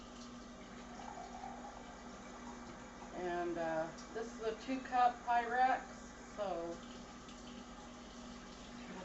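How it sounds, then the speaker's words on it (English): Water from a 2-cup Pyrex measuring cup poured into a hot pan for Swiss steak, giving a steady close hiss and sizzle while a person talks over it. "it's sizzling as I'm putting the water in"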